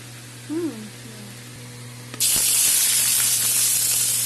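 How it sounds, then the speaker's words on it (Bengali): Bright, dense sizzling bursts in suddenly and holds steady, loud and close, as cardamom, cloves and cinnamon hit hot oil, after a brief quiet murmur. "এলাচ আর লং আর দারচিনি ফোড়নে দিলাম"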